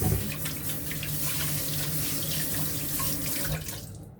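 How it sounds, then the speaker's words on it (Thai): A kitchen sink tap runs steadily while hands are washed under it, a close continuous splashing rush of water that stops abruptly at the end. "เดี๋ยวขอ ล้างมือแป๊บหนึ่ง"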